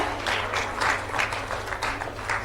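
A crowd claps steadily and loudly at a felicitation ceremony in Jharkhand where players are being honoured. The applause is dense and sustained throughout, with no talk over it.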